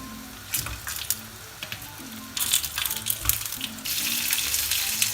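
Large peppers fry in a pan for traditional Armenian lamb yakhni, a steady hiss of sizzling oil broken by sharper crackling bursts that grow louder and denser toward the end.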